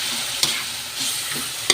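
Pork frying in a pan while being stirred, giving a steady, close sizzle with a few sharper scrapes of the utensil, no talk.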